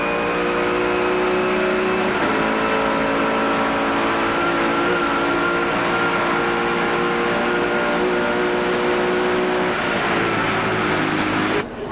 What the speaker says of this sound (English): just listen to the pitch of the engine